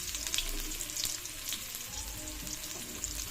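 Garlic and onion sauté in a hot pan for ginisang monggo, giving a steady, close frying sizzle with faint stirring scrapes throughout and no talking.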